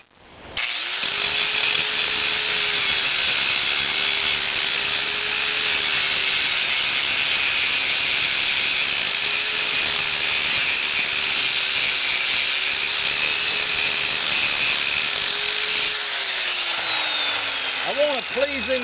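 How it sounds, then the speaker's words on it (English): A 4-inch angle grinder grinds steel stock for a crankshaft concentricity test stand, one long continuous loud whine that holds steady, then spins down at the end. "the wonders of a 4-inch grinder"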